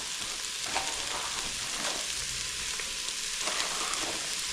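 Carrots tossed into a hot pan with spices that have been frying for a while, for a lentil stew, give off a steady, close, continuous sizzle with faint stirring and no talking.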